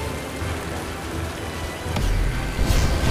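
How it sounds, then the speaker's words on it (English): Steady rain pours in the Magicka game, a constant broadband hiss that swells louder toward the end with a sharp crackling burst. "Now it's raining."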